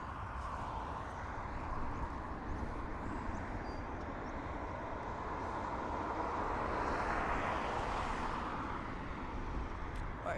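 Ryanair airliner on approach to Dublin Airport, heard as a steady broadband roar with a low rumble that swells slightly near the end, continuous throughout with no talking.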